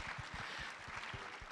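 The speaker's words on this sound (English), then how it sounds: "Can we give Lisa a little round of applause?" An audience at a political summit claps for a speaker, a faint, continuous patter of applause heard briefly, with soft low thumps beneath it.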